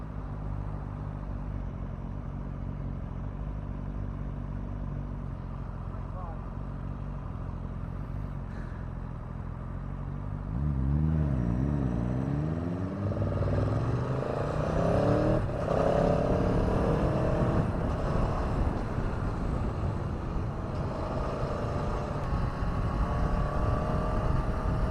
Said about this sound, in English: Not as lumpy as the KTM, but you can still tell there's a V in there somewhere.